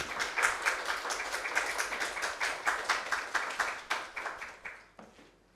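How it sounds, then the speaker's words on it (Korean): A congregation claps steadily to welcome a pastor at a staff worship service, a dense, even round of applause that carries for several seconds and thins out into a few scattered claps at the end. "목사님 나오실 때 박수로 환영의 인사합니다."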